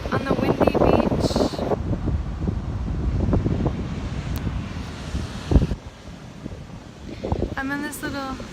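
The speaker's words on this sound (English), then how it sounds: "from Malibu on the windy beach." Wind gusts buffet the microphone on a windy beach in Malibu. A person talks over the wind, which rises and falls.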